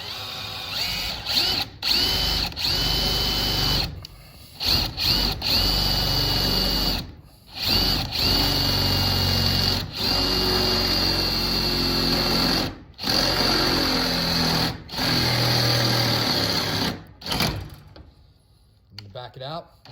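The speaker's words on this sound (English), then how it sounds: "we're just gonna start drilling a little slow to get this going" A power drill whines in repeated bursts of a few seconds each, drilling through a metal garage door for a deadbolt, high-pitched and loud, separated by short pauses.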